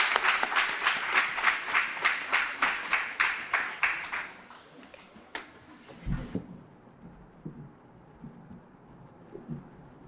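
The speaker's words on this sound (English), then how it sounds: "Please give them a warm round of applause." An audience at a fall educational conference bursts into applause, a few seconds of rhythmic, fairly close clapping that fades out, leaving a quiet room with faint shuffling.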